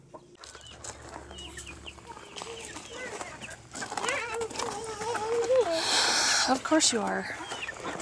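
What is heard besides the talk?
chickens clucking on a homestead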